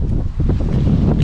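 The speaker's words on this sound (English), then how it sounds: "The cold wind hurts, man." Cold wind buffets a microphone outdoors, a loud, continuous low roar and rumble that fills the whole moment without any talking.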